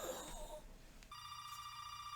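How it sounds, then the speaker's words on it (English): A telephone rings in a TV scene from Breaking Bad, a steady electronic ring tone starting partway through after muffled noise, fairly faint under low background hiss. "Can you get the phone, please?"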